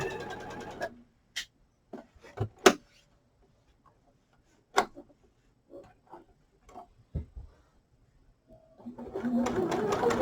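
A sewing machine stitches fabric for quilt half-square triangles in short separate bursts, with quiet gaps and clicks between them. A louder whir comes at the end.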